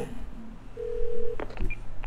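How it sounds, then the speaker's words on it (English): A phone is dialed in the video game Twelve Minutes: a single sustained keypad tone followed by a few short, clear button beeps, close and fairly loud over a low background hum. "Gotta make a phone call."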